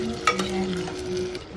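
Spiced vegetables for Gujarati undhiyu are stirred in a pan, a close scraping and shuffling over a soft steady sizzle, with a brief clink near the start.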